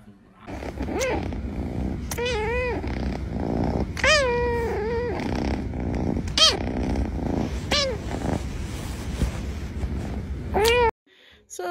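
Kittens meow repeatedly, loud and close, in a run of high rising cries spaced about a second or two apart over a soft rumbling background, before cutting off abruptly near the end.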